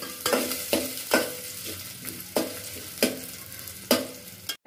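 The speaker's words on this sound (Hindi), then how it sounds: "इसमें हम डालेंगे प्याज। और प्याज को अच्छा गोल्डन ब्राउन होने तक पकाएंगे।" Onions frying in a pan until golden brown, a steady sizzle punctuated by repeated spatula stirs and scrapes, close and moderately loud, no talking.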